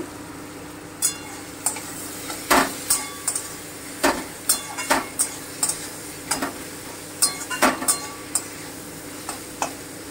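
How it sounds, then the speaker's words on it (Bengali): Chili paste frying in a pan during butter chicken cooking, a constant sizzle punctuated by a dozen or so sharp taps and scrapes of a spoon against the pan, close and fairly loud. "এবার আমি একটুখানি ভেজে নেব।"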